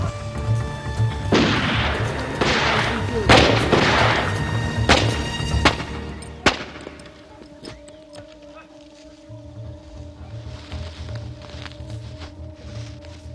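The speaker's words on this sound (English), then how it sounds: "Two shotgun rounds blasted at the nearest soldier sealed the fate of these poachers." Shotgun rounds fired at poachers in a tense bush standoff: a series of loud, booming blasts in the first half, each with a rough tail, giving way to a quieter, tonal backdrop with faint thumps.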